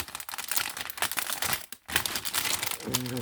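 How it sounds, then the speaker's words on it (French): Paper crinkles and rustles close by in irregular bursts while cross-stitch supply packets from Temu are handled, with a brief pause midway and a faint tonal sound at the end. "Excusez-moi pour le bruit de papier."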